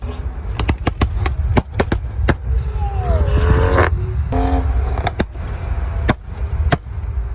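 Sharp, loud exhaust pops and crackles burst out irregularly over a running BMW X3 M40i engine with an MG Flasher tune, with one rising rev partway through.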